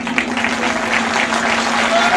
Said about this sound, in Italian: Io direi di fare un grande applauso a noi stessi